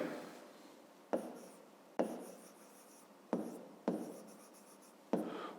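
Pen writing on paper during a fifth-grade math exercise, close and dry, in five or six separate scratchy strokes with short pauses between them and no talk.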